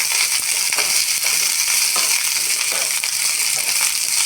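Coriander leaves and stems being stirred and sautéed in a hot pan, giving a steady, close crackling sizzle with scraping stir sounds that stays fairly even throughout.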